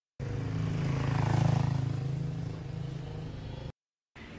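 Steady engine drone of a car driving along a road, heard from inside, rising slightly then easing before a brief cut to silence and a short return.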